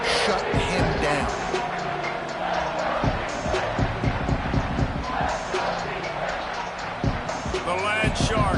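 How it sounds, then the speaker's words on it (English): Football stadium crowd roaring on a third-down play, a dense, loud wall of cheering with rumbling noise and sharp bursts throughout, while a commentator talks over it. "Crowd getting this defense whipped up on third down."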